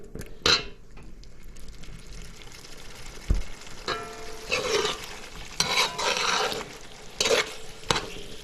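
Snapper and aloo stew cooking on the stove in a pot with its lid on, a steady soft sizzle and simmer broken by several sharp clinks and scrapes of a spoon stirring and metal pot handling, fairly close with no voices.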